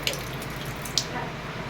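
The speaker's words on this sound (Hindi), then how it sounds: "आरओ में पूरा फुल फिल पानी था तो उसको मैं खाली कर रही हूँ इसमें बाल्टी में" Water drains from an RO water purifier into a bucket as a steady, close stream of pouring and splashing, with a couple of sharper drips on top.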